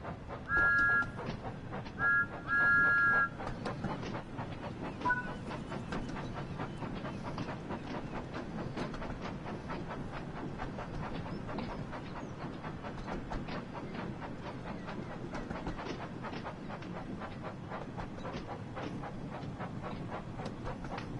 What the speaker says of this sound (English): And just shunting back into the siding.